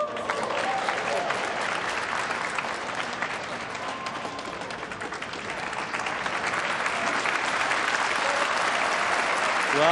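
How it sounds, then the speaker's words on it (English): Spectators applauding a shot at the 2004 World Pool Championship final, a loud, dense and sustained round of clapping that swells slightly toward the end, with faint voices underneath. "they're applauding a great shot on the 4"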